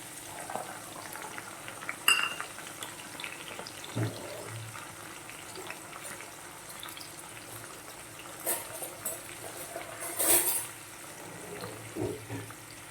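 Chopped green chillies and chopped red tomato hitting hot oil for a dal fry tadka, giving a faint, steady low sizzle broken by a few soft clatters and spoon taps.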